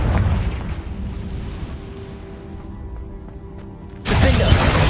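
A Confringo fire-blast spell in Hogwarts Legacy bursts loud and close near the end, a sudden booming explosion that rises sharply over a rumbling, crackling game background.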